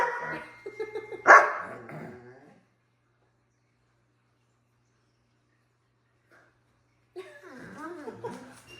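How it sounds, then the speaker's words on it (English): A dog gives a few barks at the start amid voices and background noise, then everything falls silent for several seconds before people talk again. "Even the dog's bark."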